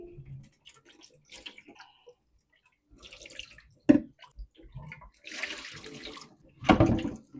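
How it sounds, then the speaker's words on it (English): Water running and splashing into a kitchen sink as it is rinsed out, intermittent gushes and drips with a louder burst of flow near the end, fairly close and moderately quiet. "So I'm just going to get this all rinsed out."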